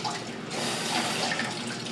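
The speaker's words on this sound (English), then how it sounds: "So literally it's just wash the strawberries," Tap water runs steadily over strawberries being washed, a close, continuous splashing hiss.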